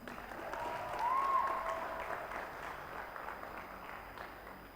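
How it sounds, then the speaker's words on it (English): Audience applause during a conference session, a soft, distant wash of clapping that swells briefly and then holds steady, with no speech over it. "Please give a round of applause to Retinzi."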